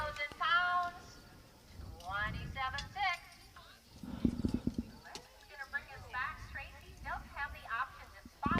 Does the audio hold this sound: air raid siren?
no